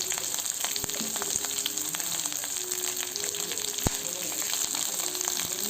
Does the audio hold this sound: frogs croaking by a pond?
no